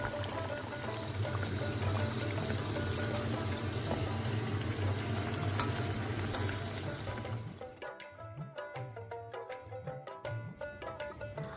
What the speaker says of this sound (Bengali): একদম ফুটন্ত রিফাইন তেলের মধ্যে ফেলে 3-4 মিনিট ধরে উল্টে পাল্টে ভেজে নিলেই